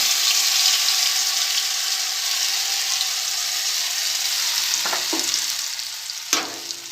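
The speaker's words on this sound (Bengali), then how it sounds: "ততক্ষণ আমার এখানে তেলটা গরম হয়ে গেছে এর মধ্যে আমি ডালটা দিয়ে দেব" Lentils tipped into hot oil in a pan on a rooftop cooking spot, frying with a steady, dense sizzle that runs close and loud throughout, broken near the end by a couple of sharp clinks of a utensil against the pan.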